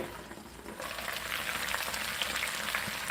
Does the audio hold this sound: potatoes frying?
yes